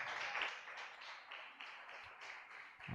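Church congregation at a live worship service clapping in a dense, continuous round of applause, faint and somewhat distant, with individual claps audible through the wash.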